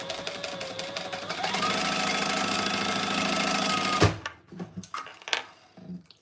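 A freshly threaded and oiled sewing machine runs a test stitch in one steady, loud whirring burst for about four seconds, then stops, leaving faint handling clicks and knocks.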